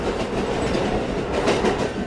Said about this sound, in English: Let's see where this train is gonna take us